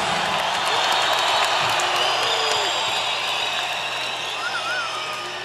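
Dense concert crowd at a show in San Jose's Compaq Arena cheering, whooping and applauding in a steady, loud roar that holds for several seconds before easing slightly, with scattered yells on top.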